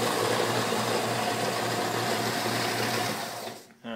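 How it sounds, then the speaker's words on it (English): A mock-up Batarang blade edge being ground on a powered sander, giving a steady loud whirring buzz with a constant low hum that runs unbroken for about three seconds, then drops away briefly before picking up again. "I'm going to take it, I'm going to sand on the sander here to"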